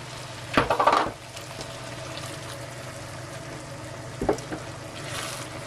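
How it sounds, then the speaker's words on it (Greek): A cup of water poured into a pot of simmering rice, a short splashing burst followed by a second brief splash, over a steady low bubbling sizzle. "Θα βάλουμε ένα φλιτζάνι ακόμα νερό."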